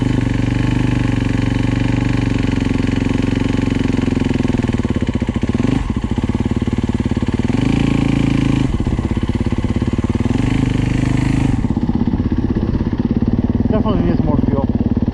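A Yamaha YZ250F dirt bike engine, a steady buzzing drone that surges and dips in revs, with a sharp blip near the middle and a fade toward the end; a voice talks over it.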